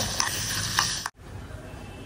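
Garam masala and tamarind frying in ghee are stirred in a pan, a steady sizzle with a few sharp scraping clicks of the spoon, cut by a brief break before the softer sizzle resumes.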